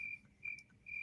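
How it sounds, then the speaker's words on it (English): Crickets chirp in a short sound-effect burst, a thin high trill repeating in quick pulses, fairly faint and alone without voices. "Crickets."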